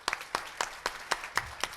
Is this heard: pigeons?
no